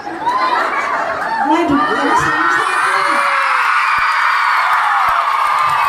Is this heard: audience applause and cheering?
yes